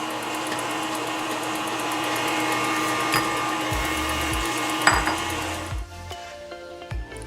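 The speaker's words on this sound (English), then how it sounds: "So I'm adding the rest of my sugar, and I want to whisk this until it's stiff peak." Meringue whisked with sugar toward stiff peaks by an electric mixer, a steady loud motor whine with occasional clinks against the bowl before it stops near the end.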